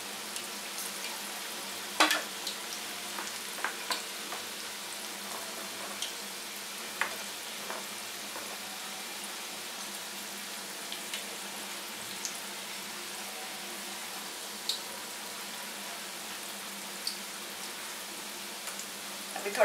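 Onion pakoras frying in oil over low heat, a soft, steady sizzle running the whole time with occasional small pops and crackles, quiet and close.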